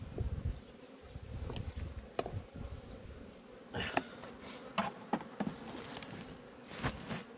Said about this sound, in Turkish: Sakin sakin arı gayet.